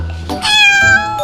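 A domestic cat gives a single loud, clear meow that rises and holds before fading, close to the listener, with no talking.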